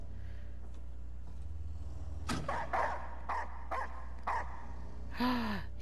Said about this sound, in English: I think the dogs kind of let me know he's coming.